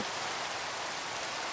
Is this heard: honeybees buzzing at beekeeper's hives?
no